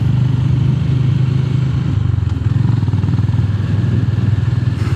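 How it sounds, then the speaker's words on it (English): Honda GB 350 S motorcycle riding on a city road, its steady engine thrum loud and close throughout with a continuous low rumble and no pauses. "this bike is a very good bike for city rides because it's lightweight, it's small, easy to handle"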